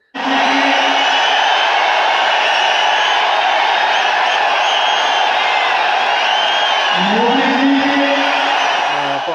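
Supporters in a packed political party hall cheer and applaud in a loud, steady roar that fills the space without a break, with a few whoops rising over the noise.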